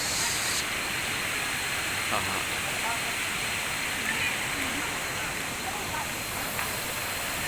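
Matikawol Falls in Mapanas, Northern Samar, gives a constant broadband rush of falling water that stays steady and fairly loud across the whole stretch.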